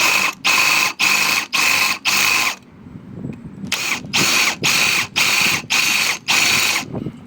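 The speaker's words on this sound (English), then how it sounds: "Get drilling" A power drill bores into metal, lubricated as it drills, in short, loud rhythmic bursts with a grinding, ratcheting texture, pausing briefly before another series of bursts.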